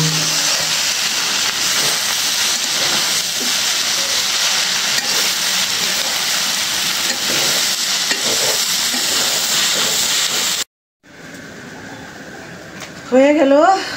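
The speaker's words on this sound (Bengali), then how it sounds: "এখন এই যে তেলেই ভাজা ভাজা করে ফেলবো" Minced meat with spices sizzles loudly and steadily in hot oil on a stove, with continuous close frying hiss and occasional stirring; after a short break someone speaks over fainter sizzling.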